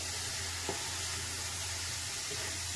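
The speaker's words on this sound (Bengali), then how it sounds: "এখানে আমি পেঁয়াজটা ভালো করে ভেজে নেবো" Onions frying in a pan for a doi katla fish curry, a steady soft sizzle running throughout with a faint clink of utensils, close and fairly quiet with no talk.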